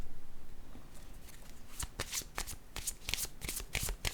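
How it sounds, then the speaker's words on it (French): Oracle cards are shuffled and laid down up close, a soft riffle followed by a series of sharp flicks and slaps at an uneven pace. "je vais déposer une autre carte ici, une rose"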